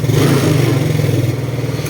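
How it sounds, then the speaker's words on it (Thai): A Yamaha Fino motorcycle engine idles steadily up close after a hard-starting and stalling fault is fixed, a loud, even low rumble with a slight rhythmic pulse throughout. "ก็เครื่องยนต์ก็จะเบาได้ปกตินะครับคราวนี้"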